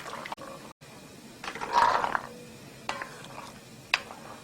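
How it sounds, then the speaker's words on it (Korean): A spoon stirs glutinous rice and perilla seed porridge in a pot, giving soft wet scraping and sloshing that swells in the middle, with a few brief clinks and no talk. "이렇게 저어주세요. 이렇게 풀어가지고 여기에 넣고 이렇게 죽을 끓여주세요."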